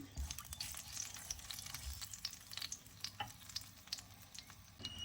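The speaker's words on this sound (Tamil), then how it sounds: "கடுகு கொஞ்சம் பொரிஞ்சு வரட்டும்." Mustard seeds spluttering in hot oil, a dense crackle of rapid tiny pops over a continuous sizzle, close but quiet, with no talking.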